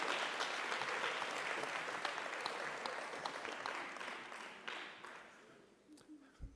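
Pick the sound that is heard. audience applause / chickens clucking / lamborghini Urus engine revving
audience applause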